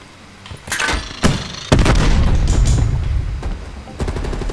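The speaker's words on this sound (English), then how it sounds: "I'm getting blown up now" Close explosions and gunfire crash through a Call of Duty Black Ops Cold War campaign battle. Sharp blasts break out in quick succession, then a heavy rumbling boom holds and keeps roaring loud and steady, with no voice over it.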